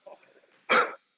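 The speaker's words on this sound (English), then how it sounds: "I keep coughing up chicken." A person coughs once hard after inhaling a bit of chicken, a short loud burst following faint talking.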